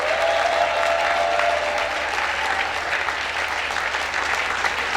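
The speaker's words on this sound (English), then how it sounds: "For a better PWAN, keep clapping" A summit audience claps continuously for five seconds, a dense, steady wash of applause from a large crowd at a PWAN Group success summit.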